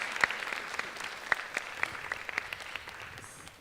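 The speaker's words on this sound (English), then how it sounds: "So a big round of applause" Scattered audience applause at a Bharatanatyam arangetram, a few distinct claps over a soft steady patter, fairly quiet and fading slightly toward the end, with no talking over it.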